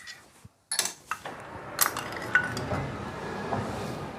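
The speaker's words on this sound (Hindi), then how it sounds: "अब हम खोल देते हैं जो क्लच प्लेट की नीचे की ऑयल वाली प्लेट होती है जिसके अंदर ऑयल रहता है" Metal parts clink and rattle as the oil plate beneath the clutch plate is pulled from a Hero HF Deluxe BS6 motorcycle engine, a few sharp close knocks followed by lighter scraping handling.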